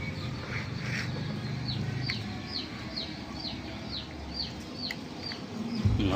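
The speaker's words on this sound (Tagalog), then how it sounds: "papakita ko sa inyo mga alaga nating kalapate" Pet pigeons at feeding time, with a steady stream of bird calls and chirps recurring over a constant background din, fairly close and without speech.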